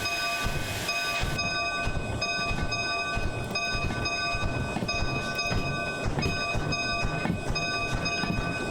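A steam locomotive under throttle in the Derail Valley train simulator game gives a steady rolling rumble with rhythmic rail clatter and sustained tonal whistle-like hums throughout, loud and continuous.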